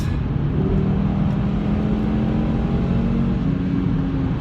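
A 2018 Audi TT RS with Quattro all-wheel drive and a 7-speed S-tronic gearbox accelerating hard from a standstill: a steady, loud engine drone with a rising tonal note, heard close and continuous with no talk.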